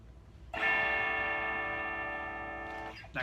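A Gibson Gold Top electric guitar in a studio, played through a distortion effect, rings out one loud, sustained chord that holds for about two and a half seconds, fades slowly and then cuts off.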